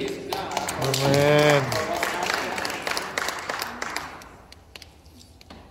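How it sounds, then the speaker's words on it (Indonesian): Audience applause at a church sermon, a dense patter of clapping that swells and then fades over several seconds, with a voice speaking and calling out over it early on. "Tepuk tangan kalau kita masih hidup"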